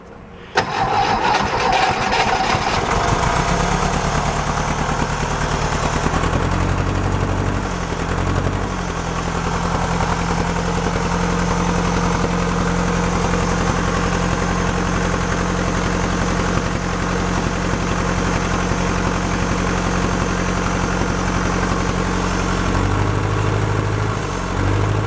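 A 1969 VW Fastback's fuel-injected engine, unused for 19 years, cranks briefly, catches, then settles into a steady, rough idle that runs loud and close for the rest of the clip.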